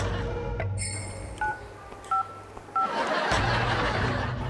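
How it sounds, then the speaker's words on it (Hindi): A telephone number is dialed on a keypad, giving a few separate DTMF beeps spaced apart, followed by a rising hiss of line noise. "मैं भी मारे बेटा ने फोन लगाऊं"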